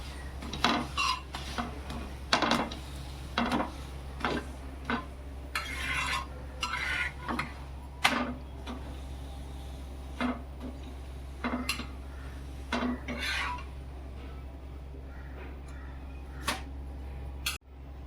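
Beetroot paratha flipped on a pan in a home kitchen: a series of short scraping and clinking utensil sounds against the pan, spaced irregularly over a steady low hum, with no talking.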